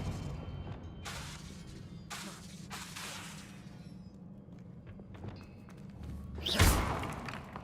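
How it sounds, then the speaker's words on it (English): The Expelliarmus spell is cast in Hogwarts Legacy: a few soft thuds and whooshes lead up to a sharp, loud crackling burst near the end, with no talking. "Expelliarmus!"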